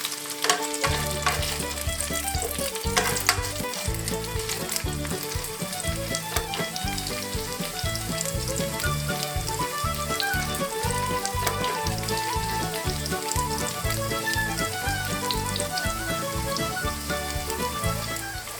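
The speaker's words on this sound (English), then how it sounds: "I had let the frozen fries fry, contrary to the package instructions." Frozen french fries fry hard in hot oil in a pan, a dense, continuous crackling sizzle with sharp spitting pops. It holds loud and close for the whole stretch, with no talking.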